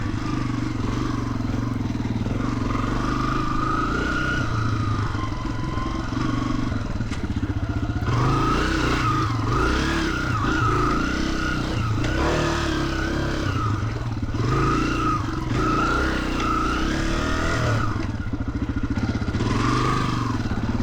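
A Honda CRF300F air-cooled dirt bike engine drones steadily as the machine is ridden over rocky ground, its loud, even exhaust note rising and falling slightly with throttle while chassis rattles and clatter run continuously beneath it.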